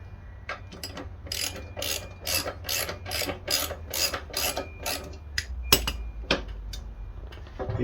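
A ratchet clicks in quick repeated bursts, tightening the bolt on a Poulan lawn mower blade, close and crisp, with brief pauses between strokes and no talk.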